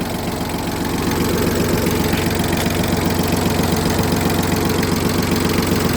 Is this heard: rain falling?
no